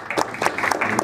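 Brief burst of studio applause with a few distinct claps, close and moderately loud, lasting about a second.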